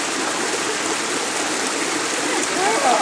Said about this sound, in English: A beautiful natural waterfall and little river.